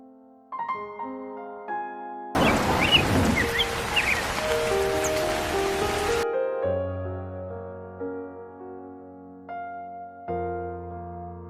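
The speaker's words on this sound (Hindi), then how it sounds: "बाहर बारिश हो रहा है" A cartoon sound effect of heavy rain pours outside as a dense, hissing downpour that lasts about four seconds, set between gentle musical notes before and after.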